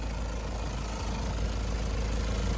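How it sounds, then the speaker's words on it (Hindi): A steady, low diesel engine of an old Mahindra Scorpio SUV idles continuously at close range, a constant rumbling drone with no voices over it. "इंजन साउंड सुनो भाई, 10 साल बाद डीजल इंजन की साउंड"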